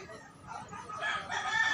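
Roosters crow in drawn-out calls, slightly distant, overlapping with faint clucking and outdoor background noise.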